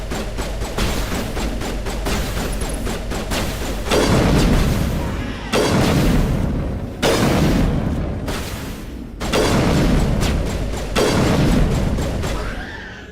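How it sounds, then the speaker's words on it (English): Repeated heavy shotgun blasts from a firefight in the video game Mass Effect, loud bursts recurring every second or two amid constant combat noise, with a voice faintly under the din. "Rex is just in there pumping them with the shotgun."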